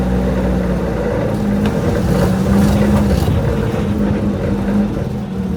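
A Renault 5 Gordini with a worn clutch labours up a ramp. Its engine holds a steady, close, droning hum throughout, with no break in the note.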